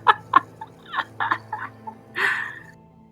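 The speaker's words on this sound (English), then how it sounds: "It's a rock chicken." A rock chicken creature in a fantasy video game clucks and gobbles in a run of short, turkey-like bursts, ending with a longer drawn-out squawk, fairly close and clear over faint background hum.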